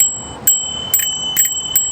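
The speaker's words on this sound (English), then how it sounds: "we got these really loud bells" A bicycle bell rings four times in quick, evenly spaced dings, bright and close against faint background rumble.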